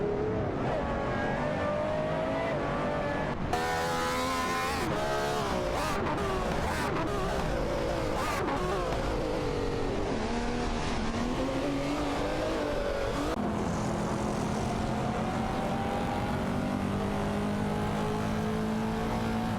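Race cars in an AI racing video game, a Lamborghini Reventon and an Aston Martin battling for first place, engines roaring and revving continuously with shifting pitch as the cars pass and accelerate, under a commentator's voice.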